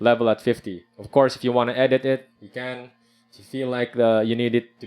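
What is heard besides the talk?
No distinct noise like a dog, phone or traffic.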